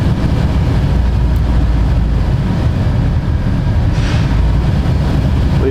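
An engine fitted with a blower runs at full speed, producing a loud, continuous low roar that holds steady throughout.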